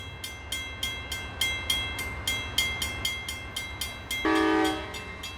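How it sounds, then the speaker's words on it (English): A train rolls by with a rhythmic clatter of wheels over rail joints, then a loud horn blast sounds near the end. "These are the familiar sights and sounds of train travel."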